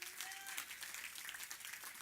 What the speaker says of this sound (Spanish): Den un aplauso al Señor esta noche.